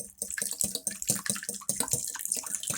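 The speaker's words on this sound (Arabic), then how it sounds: "عندنا بيضة هنخفها بالمية الاول" Cold water is poured onto a beaten egg in a bowl, giving a close, bubbly splashing and trickling sound that comes in uneven bursts.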